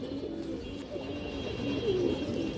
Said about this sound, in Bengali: হাই কোয়ালিটির পাল্লা করা মাদি কৌতর